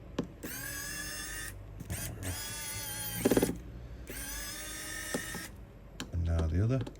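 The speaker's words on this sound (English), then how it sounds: "We're going to remove that as well as these two screws for the fingerprint sensor." Small screws holding the fingerprint sensor come out of a Samsung Galaxy A51 during a screen replacement, with three sustained mechanical whirring bursts and a few clicks while a voice talks.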